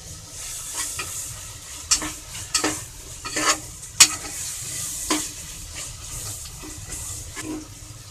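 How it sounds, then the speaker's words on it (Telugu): Tomato and onion masala frying in a pan for mutton biryani, a steady soft sizzle broken by repeated sharp scraping stirs of a spoon against the pan, close and clear with no talking. "పచ్చివాసన పోయే వరకు ఫ్రై చేద్దామండి."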